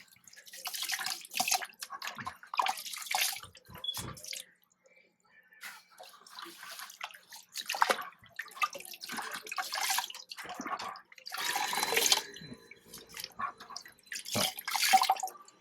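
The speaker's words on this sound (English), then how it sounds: "Just give these a quick rinse in this dirty water" Canister filter media from a reef aquarium is rinsed in a bucket of dirty tank water, with repeated bursts of sloshing and splashing, short drips and gurgles, and brief quiet gaps between dunks.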